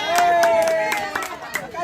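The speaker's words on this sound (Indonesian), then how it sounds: "Tepuk tangan." Group applause at a Scout campground gathering, with sharp irregular claps breaking out over murmured chatter and a steady background hum, fading toward the end.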